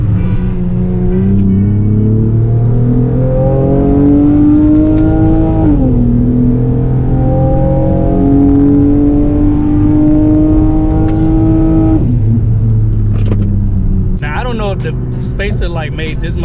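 A Honda street car racing a Dodge Charger RT: engine note climbing steadily through the gears with two clear drops at the shifts, loud and close throughout, with some faint clatter at the end.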